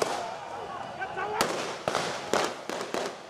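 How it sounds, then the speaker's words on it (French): Police in Uganda fire live rounds into the air to disperse protesters: several sharp, cracking shots spaced irregularly over a noisy crowd background, with talk over them. "La police a même dû employer des gaz lacrymogènes et tirer à balles réelles en l'air pour les disperser."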